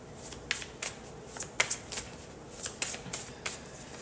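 Tarot cards being shuffled, a series of soft, crisp riffling snaps at an irregular rhythm, close and fairly quiet, with no talking.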